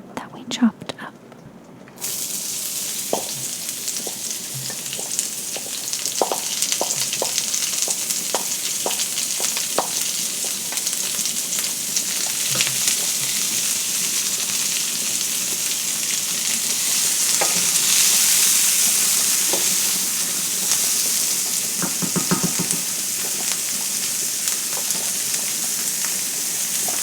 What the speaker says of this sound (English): we put a little bit of olive oil. Now we're going to add the onion that we chopped up.